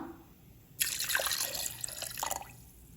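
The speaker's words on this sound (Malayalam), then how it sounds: "ഇനി നമുക്ക് ഇതിലേക്ക് ആവശ്യത്തിന് വെള്ളം ഒഴിച്ചു കൊടുക്കാം." Water pours into a mixer jar of mint lemon juice ingredients, a steady splashing stream starting abruptly and running for over a second before stopping.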